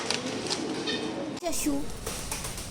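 Pigeons coo softly nearby, a low throaty call over a busy background, with voices talking in the same space.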